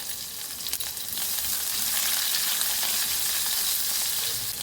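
Onion fries in a pan for a dal and raw mango dish, giving a steady, dense, hissing sizzle that stays loud and close throughout.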